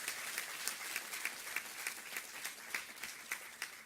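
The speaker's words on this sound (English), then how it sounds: "give them big applause" Audience applause welcoming the dignitaries on the dais at a World No Tobacco Day event at NIMHANS, a steady crowd clapping with regular, slightly rhythmic peaks that holds for the whole stretch without talk.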